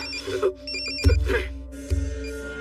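A telephone rings with a repeating electronic tone, two bursts of ringing close by, with faint background voices.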